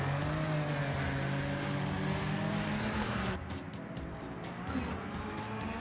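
The engine of a Porsche 962 race car in the Project Motor Racing video game drones loudly at high revs, holding steady tones, then shifts down a notch partway through and carries on with faint tyre noise.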